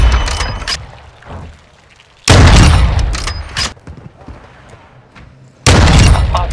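Shotgun blasts in Call of Duty, a video game: two loud, heavy booms several seconds apart, each with a rumbling tail, between quieter stretches of game noise.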